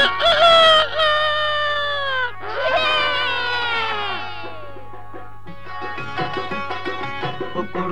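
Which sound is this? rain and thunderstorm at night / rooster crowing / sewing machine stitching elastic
rooster crowing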